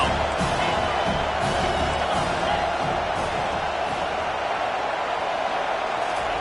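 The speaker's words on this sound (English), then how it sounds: "Decibels rising as the crowd gets behind this defense on third down." Stadium crowd in a Miami football video game roaring steadily on a third-down defensive stand, a dense, continuous wall of cheering with scattered whoops throughout.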